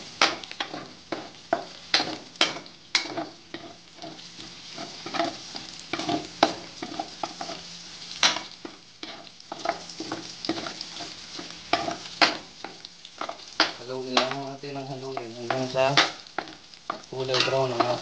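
Onion fries until brown in a pan for chicken cooked with Sprite and oyster sauce. A close, busy sizzle is broken by rhythmic scraping strokes of stirring, with a faint voice near the end.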